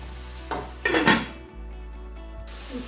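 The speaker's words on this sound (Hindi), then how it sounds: "अब इसको हिला देते हैं।" A metal spoon stirs tomatoes in a cooking pot and the lid clanks on, a few close metallic scrapes and knocks over a steady background hum.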